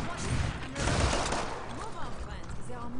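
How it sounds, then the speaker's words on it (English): Flamethrower firing in the video game Killing Floor 2, a dense continuous roaring spray running loud through the whole stretch with crackling bursts, under a voice. "Oh yeah, the flamethrower definitely is the way to go"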